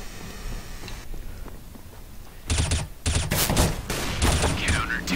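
Automatic rifle fire in Counter-Strike: Global Offensive, loud rapid bursts that start mid-way and repeat in several close volleys over a background of game ambience.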